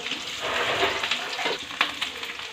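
Chopped onion drops into a pan of frying garlic and curry leaves, giving a loud, continuous rushing sizzle with small crackles and pops throughout.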